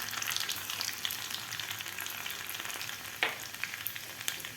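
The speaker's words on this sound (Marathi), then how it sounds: "तेल आपलं गरम झालेलं आहे. तर यामध्ये घालायची आपल्याला सुरुवातीला मोहरी, त्यानंतर चॉप करून घेतलेलं लसूण घालायचं आहे." Mustard seeds and chopped garlic frying in hot oil for a Khandeshi brinjal bharit, a continuous soft sizzle with occasional sharp crackles and pops, no talking.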